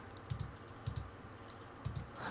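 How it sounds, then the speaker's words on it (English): Computer keyboard typing at a desk during a game, heard as three short bursts of clustered key clicks spaced about half a second apart, fairly close and moderately quiet, with no talking. "Sorry, there's so much clicking."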